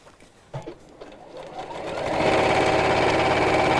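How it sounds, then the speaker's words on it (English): A sewing machine stitches straight down the sides of a fabric bag, a steady close whirring hum that starts after a few soft handling knocks and then runs loud and continuous. "So I'm not sewing across the bottom, I'm just going straight down over the sides."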